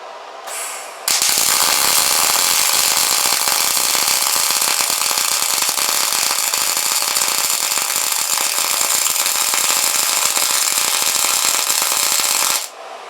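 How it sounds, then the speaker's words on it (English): Continuous MIG welding bead laid with an Everlast MTS 225 welder, a loud, steady crackling buzz that starts abruptly after a second of quiet, holds for about eleven seconds, then cuts off. "I still can't weld in a straight line."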